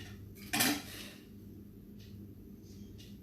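A knife slices a mushroom for a vegetarian poke bowl: one sharp clack of the blade on the board, followed by a few faint, softer taps in a quiet kitchen.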